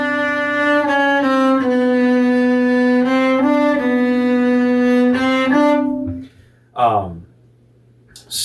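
Cello playing measures 44 to 48 of Rondo Grazioso from the Sonata in C Major, Suzuki Book 4: a bowed phrase of sustained, repeated notes that stops around six seconds, followed by a short bowed figure and then silence.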